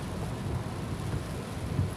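Rain falls steadily on a car stuck in traffic, a soft continuous wash of patter and low rumble heard from inside the vehicle, with no voices.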